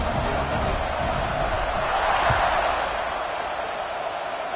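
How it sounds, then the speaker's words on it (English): A stadium crowd in the College Football video game buzzes steadily after a score, a dense, continuous roar of many voices that stays loud and even throughout with no single voice standing out. "this crowd is buzzing after that last score"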